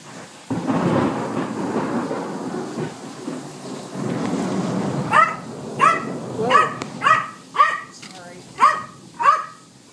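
A dog barks repeatedly and loudly at close range, a regular series of sharp barks following a stretch of rumbling noise and talk.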